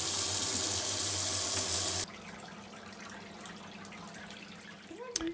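Water is pumped through a hydroponic tower built from drain pipes, heard as a steady rushing flow that cuts off abruptly, leaving quieter trickling and dripping with a faint clunk near the end.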